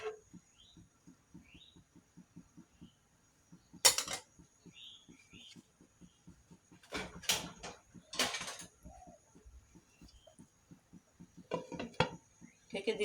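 A metal lid set onto a pot of cooking rice on the stove gives a few sharp clanks at separate moments, over a quiet, steady rhythmic ticking in the background.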